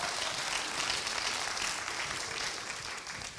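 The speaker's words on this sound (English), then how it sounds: "Another round of applause, please." Applause from the audience at a Korean cultural music festival: a steady, fairly quiet wash of many hands clapping that holds evenly throughout, with no voices over it.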